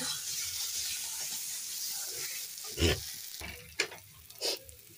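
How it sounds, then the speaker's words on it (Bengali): Spice masala frying in a pan for a vegetarian cauliflower dish gives a faint steady sizzle, broken by a few short louder bursts of stirring or spitting. "মশলা ভালো করে কষানো হয়ে গেছে"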